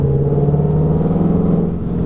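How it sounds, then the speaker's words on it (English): A 2019 Ford Mustang GT V8 with active exhaust and an H-pipe drones heavily in track mode in third gear, a loud, steady low rumble heard from inside the car without talking. "So you can really hear the engine"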